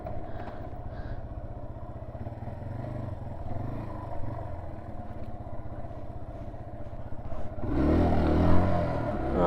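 A Yamaha TW200 motorcycle engine idles with a steady, close thump, then revs hard and loud near the end during a pop wheelie attempt.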